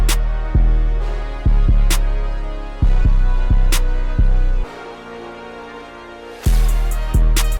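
A trap beat's bridge section leading into the hook, with layered brass chords over hard, booming kicks and crisp hits, drops briefly to a sparser stretch before the full drums slam back in, loud and upfront with no voices.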